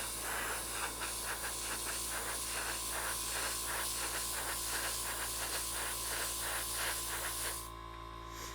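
A close, steady airbrush spraying primer hisses in pulsing bursts for several seconds, then cuts off, leaving a quieter background hum.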